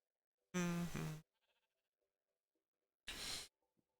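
Cow mooing in the Minecraft video game: two short, bleating moos, the first longer and louder, the second briefer, heard clearly and alone with near silence between them.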